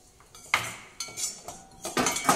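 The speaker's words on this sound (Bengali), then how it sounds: "এবার এই ঘিয়ের মধ্যে নারকেলটা দিয়ে দেবো, নারকেলটাও হালকা ভেজে নেব" Grated coconut being lightly fried in ghee and stirred in a pan: a metal utensil scrapes and clinks against the pan in four or five sharp bursts, close and fairly loud, with no voices.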